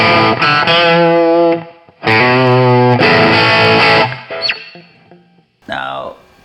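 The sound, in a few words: guitar through British-style 50W Mojotone amp, controls halfway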